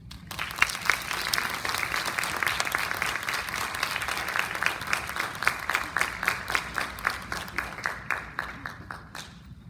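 A seminar audience applauding presenters after a talk on Black banking and economic justice, full dense clapping that gradually thins into scattered, distinct claps before fading out.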